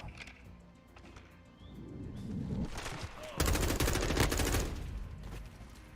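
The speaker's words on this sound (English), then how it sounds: "Of course, I fill in with bullets and I die. That's typical Call of Duty." Gunfire in the video game Call of Duty crackles in rapid bursts that build into dense, loud automatic fire during the second half, with a few faint scattered shots before.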